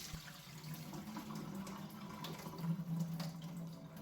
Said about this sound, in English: fill the mason jars most of the way with water, swirl them around for a few seconds, and drain all of the water out of the jar